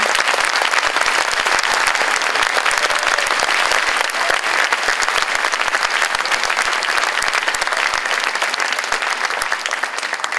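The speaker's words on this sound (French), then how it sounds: "qu'on peut applaudir très fort parce que c'est eux qui jouent l'instrument" A large audience applauds loudly and steadily after a school orchestra concert in Gorron, a dense, continuous wash of clapping that stays strong from start to finish with no voices over it.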